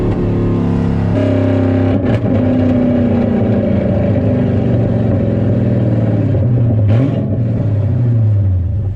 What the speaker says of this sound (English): out of pretty much all of the exhaust setups that I've had, this is definitely my favorite one.